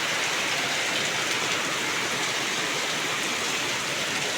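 Heavy monsoon rain pours down on an early morning, a dense, unbroken roar of drops drumming on surfaces, loud and steady throughout with no voices.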